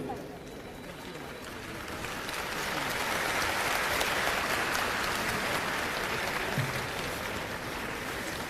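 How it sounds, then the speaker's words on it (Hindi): A crowd applauding to welcome elderly pilgrims setting off on a Dwarkadhish yatra, a broad wash of clapping that swells and holds at moderate distance, with voices murmuring through it. "आपकी तरफ से तालियों का स्वागत वहां से बनता है"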